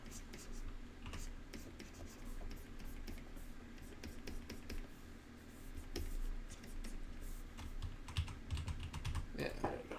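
Soft, close typing on a computer keyboard during a comic layout sketching session, irregular light clicks scattered throughout beneath quiet background noise and occasional low speech.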